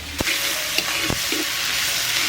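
Onions sizzle steadily in a hot pan for mutton curry, a loud close frying hiss broken by a few sharp clanks of a spoon against the metal.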